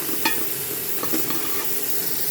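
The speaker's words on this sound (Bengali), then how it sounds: "ভেজে রাখা আলুগুলো দিয়ে একটু ভালো করে কষিয়ে দিচ্ছি" Fried potatoes and snakehead fish being stirred and sautéed in a pan for a village-style curry, giving a steady close oil sizzle with a few soft scraping stirs and no voices.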